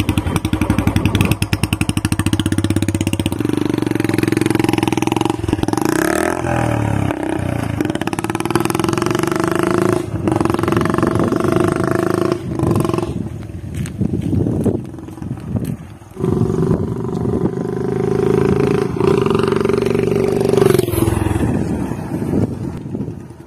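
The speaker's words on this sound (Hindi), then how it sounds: "साउंड से ये लग रहा ना मुझे कि इसका साइलेंसर चेंज है।" A Royal Enfield motorcycle with a modified silencer rumbles and revs with a deep, throaty exhaust note, idling then blipping the throttle repeatedly, loud and close throughout.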